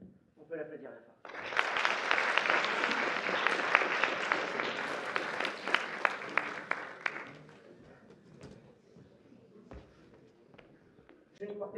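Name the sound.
audience applause at a mentalism show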